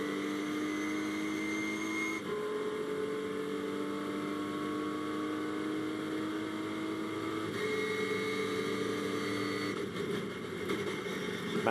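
Ginetta GT race cars circulate at Snetterton, their engines droning steadily with shifting pitch as cars pass through, a sustained loud track roar with a few gear-change breaks.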